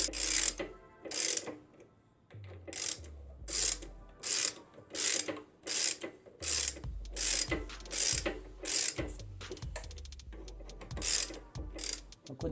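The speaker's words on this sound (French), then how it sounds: "Et bien sûr on serre en diagonale, surtout le serrage final." A hand ratchet tightens bolts in a diagonal pattern, giving fast clicking bursts again and again, each with a brief pause between, loud and close.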